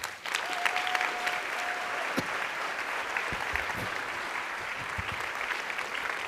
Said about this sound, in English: 2 points of data that I think are important that deserve at least a round of applause for you